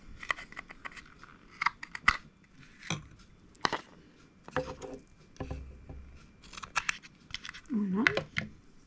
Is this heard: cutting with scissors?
yes